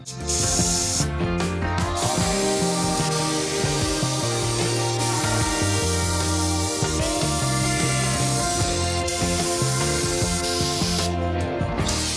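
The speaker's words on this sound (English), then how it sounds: "we still got some heavy grease we gotta blast away with brake clean" Brake cleaner sprayed from a can to blast heavy grease off a 1275 motorcycle engine fitted to a Sportster flat tracker, a loud, steady hiss lasting several seconds with a few short breaks.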